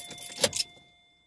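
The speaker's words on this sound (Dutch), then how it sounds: "Ik moest gewoon de sleutel eruit trekken." A car key pulled from the ignition, a short metallic jangle of keys lasting under a second, close and fairly quiet, then fading into silence.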